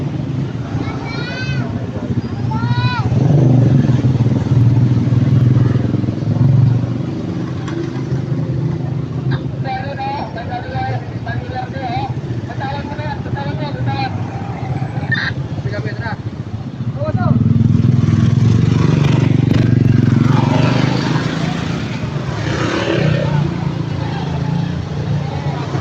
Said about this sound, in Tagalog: Traffic talaga.